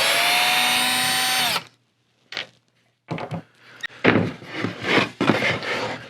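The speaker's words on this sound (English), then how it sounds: "I just drove some screws into the 4 corners" A power drill drives a screw into the corner of a wooden jig for a scarf-joint guitar neck: one loud, sustained whine that stops abruptly, then a pause and a few knocks and thuds as the wood is handled.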